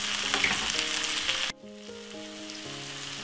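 Food frying in a pot for tuna pasta, a steady loud sizzle that cuts out abruptly halfway, then quieter bubbling with a low background tone underneath.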